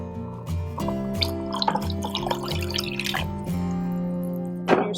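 Water pours into a cooking pot while a boxed dinner meal is being made, with a steady splashing stream running beneath continuous background music.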